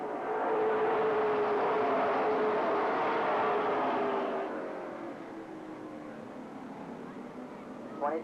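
Mid American Sportsman race cars at Lake Geneva Raceway in Wisconsin roar past in a loud engine drone that swells and then fades as the pack moves away, with a commentator talking over it.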